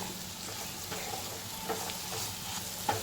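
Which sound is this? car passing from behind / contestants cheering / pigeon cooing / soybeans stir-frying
soybeans stir-frying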